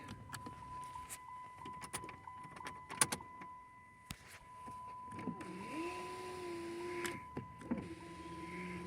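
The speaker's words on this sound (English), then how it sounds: "Let's see, do the windows work? It's a Chrysler." A Chrysler Hemi Magnum's electric power window whirs as its motor runs for a couple of seconds, with a steady hum beneath and scattered clicks and knocks before it, no talk.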